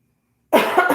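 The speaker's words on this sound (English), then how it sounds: "You guys might hear a little bit of coughing" Silence, then a sudden burst of close coughing, a few rough hacks in quick succession that fill the second half.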